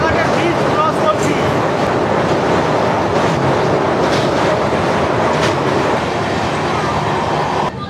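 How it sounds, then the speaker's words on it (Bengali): A passenger train runs fast at about 110 km/h across the Kolaghat bridge, a loud, dense, continuous rumble and rattle heard from inside a carriage, steady throughout with faint rhythmic clatter. "আমাদের ট্রেন এখন 107, 109, 110 কিলোমিটার ছুটছে।"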